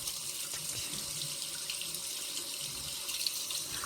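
Water runs steadily from a tap as plant roots are rinsed under it, a constant moderate splashing stream with no voices.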